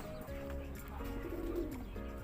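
Pigeons coo steadily inside a loft that holds checkered birds, soft repeated throaty calls overlapping close by with no talking.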